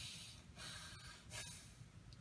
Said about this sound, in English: So if I were to exaggerate the friction in the nostril area, it will sound like this.